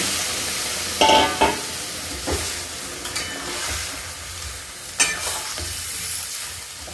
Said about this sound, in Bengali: সব সবজি ভাজা হয়ে গেছে এবার চিকেনগুলো দিয়ে নিলাম